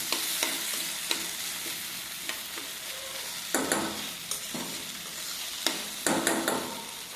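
Curry leaves frying in hot oil with asafoetida for a chutney, a gentle steady sizzle punctuated by several louder bursts of crackling and stirring scrapes, close by.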